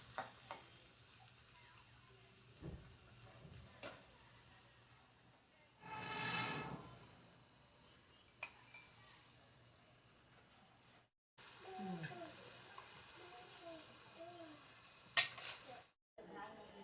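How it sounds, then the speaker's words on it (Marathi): Chopped onion stirred and frying in a pan on a small village wood-fired stove, with scraping stir strokes, a soft sizzle, and occasional utensil clinks against the pan throughout. "आता मम्मीने कांदा टाकला. आता मम्मी हलवून घेते."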